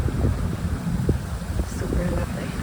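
Wind gusts across Mowbray Park and buffets the microphone in a steady low rumble, with people talking softly underneath.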